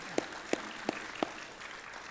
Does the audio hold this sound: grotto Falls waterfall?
no